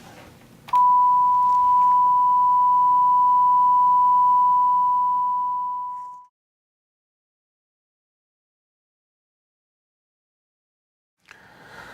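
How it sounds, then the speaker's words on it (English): A single steady pure sine wave tone holds for about five seconds, then fades out, leaving silence before faint noise returns. "a steady tone like a sine wave"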